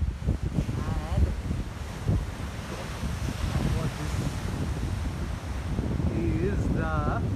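Ocean waves wash against the shore at Gangavaram Port beach, a broad continuous surf roar buffeted by heavy wind noise on the microphone, with people talking over it throughout.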